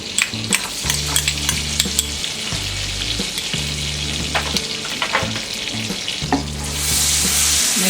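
Chopped garlic frying in a teaspoon of oil for white sauce pasta, stirred steadily with a spoon: a continuous close sizzle with repeated scraping strokes against the pan, growing a little brighter near the end.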